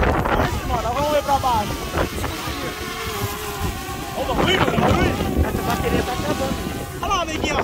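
A 70mm racing drone flying in strong wind, its high buzzing motor whine rising and falling over heavy wind buffeting, with people talking throughout.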